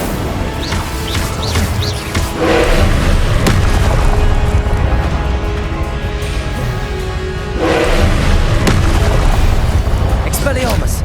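Incendio fire spells cast during Hogwarts Legacy combat, with two loud whooshing booms about five seconds apart over a continuous bed of game effects and faint chirps, and a voice speaking intermittently.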